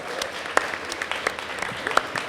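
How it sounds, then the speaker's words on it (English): Light, scattered applause from a small podcast audience, soft individual claps spread irregularly across the moment at moderate distance, with faint voices in the background. "Give them a round of applause."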